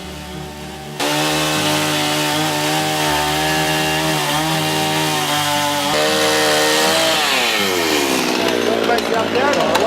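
A chainsaw revs loudly and steadily while cutting wood for a sculpture, its pitch rising and falling with the load. Close and dominant throughout, with a voice speaking beneath it.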